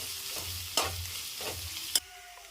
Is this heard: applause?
no